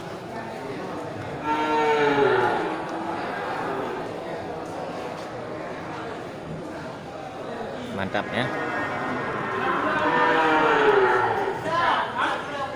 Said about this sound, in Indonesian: terlihat beberapa ekor sapi simental dan sapi limosin kategori sapi penggemukan